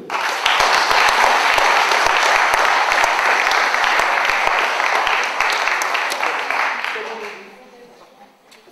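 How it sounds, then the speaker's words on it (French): Audience applause at a sports merit awards ceremony, a dense, steady round of clapping from a large crowd that holds strong for about seven seconds before fading away at the end. "je demande d'applaudir Tim Coulet"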